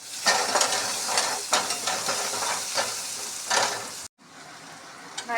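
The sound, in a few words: frying onions and tomato in oil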